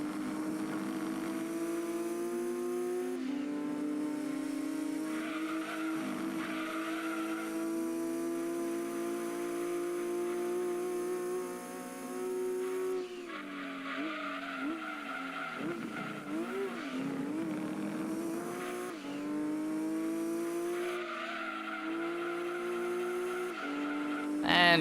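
A Nissan Silvia race car in Gran Turismo 2 lapping a Mugen NSX, a steady engine drone with rising and falling revs through gear changes and occasional tire squeal, close and continuous.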